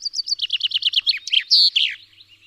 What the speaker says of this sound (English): there's actually another bird calling back